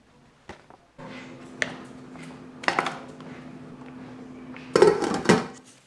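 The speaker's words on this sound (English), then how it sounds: "so we'll toss this in the pan as well" A packaged Baxter's dessert from a 2012 Canadian military ration pack is dropped into a pan, giving sharp metallic clatters and knocks, a few near impacts with rustling and handling noise between them.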